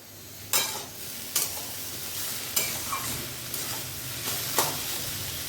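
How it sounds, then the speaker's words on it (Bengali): Banana stem curry being stirred in a frying pan, a soft continuous sizzle punctuated by about five sharp scrapes of the spatula against the pan, close and without talk. "এবারে আমি একটু এটাকে নাড়াচাড়া করে দিই"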